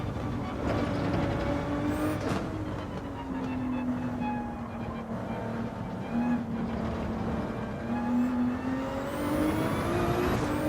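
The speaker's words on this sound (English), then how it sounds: "Look at the acceleration on this POP with this Ferrari." Ferrari engine in the Gran Turismo 7 racing game, a steady loud drone whose pitch sweeps and climbs gradually through gear changes as the car accelerates, with no talk over it.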